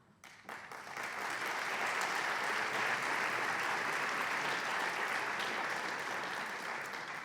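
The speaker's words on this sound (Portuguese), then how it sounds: "os aplausos são para vocês todos" Full, even applause fills a large amphitheatre at a science plenary session, rising quickly from quiet into a sustained roar of many hands clapping and holding steady throughout.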